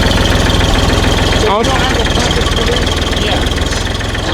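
A tractor engine runs close and loud in a steady, rough idle with a rapid mechanical pulse and a brief clattering burst partway through.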